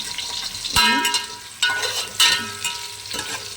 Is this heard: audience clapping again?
no